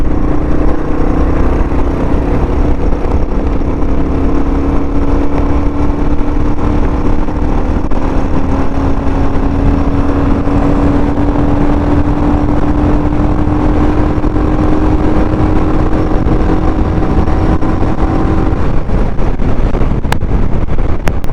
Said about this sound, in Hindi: अब देखते हैं, बाइक को थोड़ा पुश करते हैं।